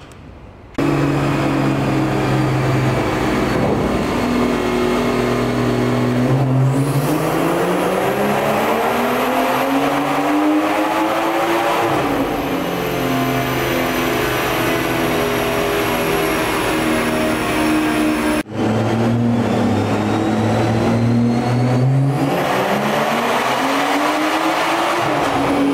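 A JB4-tuned BMW 340i engine on a dyno revs hard and climbs repeatedly in pitch, loud and close, with a brief cut before it winds up again.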